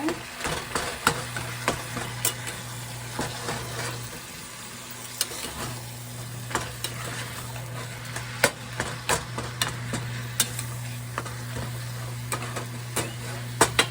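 Lasagna filling with onion is pushed around a pan in a steady run of scraping, tapping stirs, with a low constant hum underneath and no talk.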